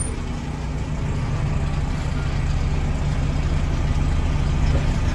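Steady, loud drone of a backhoe's diesel engine running continuously, a low rumbling hum that holds even throughout with no talk over it.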